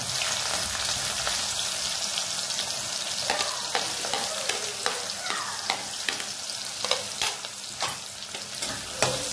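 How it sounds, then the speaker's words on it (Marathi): Mustard seeds, cumin and finely chopped onion sizzle steadily in hot oil, a continuous crackling fry with repeated sharp stirring scrapes and spatters rising above it, close and fairly loud, with no voices. "यात मग आपल्याला टाकायची थोडंसं मोहरी, थोडंसं जिरं आणि बारीक चिरलेला कांदा।"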